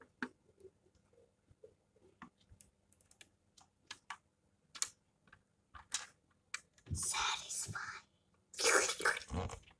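Protective film is peeled off a Tesla Cybertruck toy close to the microphone, giving soft scattered crinkles and ticks that build into two longer, louder ripping bursts near the end.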